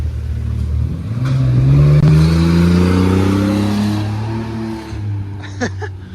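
A 1991 Chevrolet Blazer engine is revved up hard, climbing to a loud peak and then settling back to a rough idle, with a brief clatter near the end and no talking.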